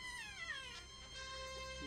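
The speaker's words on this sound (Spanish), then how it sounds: "Creo que quiere subir la gata." A female cat meows several times in a row, quite close, the drawn-out cries sliding downward and rising against a steady background hum, with no talk over it.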